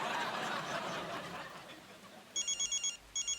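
A phone rings with bursts of electronic trilling tones near the end, following a stretch of noisy, muffled background chatter and laughter.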